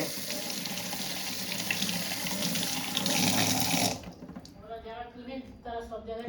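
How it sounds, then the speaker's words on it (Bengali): Tap water running into a sink while jujube fruits are washed, a steady close splashing stream that stops abruptly, followed by voices talking. "এবার কুলটাকে ধোবো"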